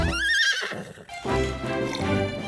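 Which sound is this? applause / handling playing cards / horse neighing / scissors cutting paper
horse neighing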